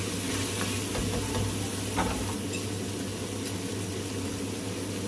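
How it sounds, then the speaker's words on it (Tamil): Tomatoes sautéing in a pan for a garlic tamarind curry, a steady soft sizzle with faint stirring scrapes, close by and continuous with no talking. "லைட்டாக சிம்மில் வச்சுக்கோங்க கொஞ்சம் மூடி போட்டுருங்க தக்காளி நல்லா வதக்கிங்களா"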